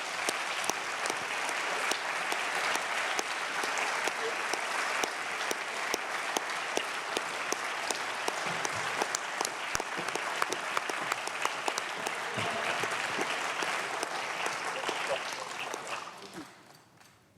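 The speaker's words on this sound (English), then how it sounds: "everyone please join me in one more big round of applause." An audience at a launch event claps hard and steadily for about fifteen seconds, a dense sustained round of applause that tails off quickly at the end.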